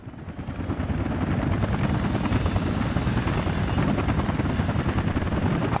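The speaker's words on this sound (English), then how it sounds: "Also helicopters are arriving." Helicopters arrive in the Workers & Resources: Soviet Republic city-building game with a steady, loud rotor thump and engine drone that swells in at the start and holds throughout.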